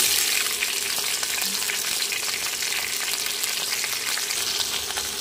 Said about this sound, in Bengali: তেল গরম হয়ে গেছে, দিয়ে দেব শুকনো লঙ্কা, তেজ, কালো জিরে, দিয়ে দিচ্ছি কেটে রাখা ভেন্ডিগুলো।